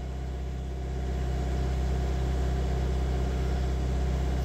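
A Vauxhall Astra 1.7 diesel engine idles while parked during a DPF regeneration, giving a steady, loud, low droning hum that holds even throughout with no revving.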